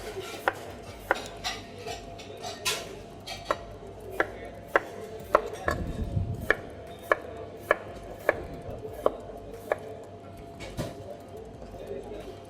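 Knife chopping potatoes on a cutting board, halving, quartering and slicing them, with a steady series of sharp, close taps at roughly half-second intervals and no talk over it.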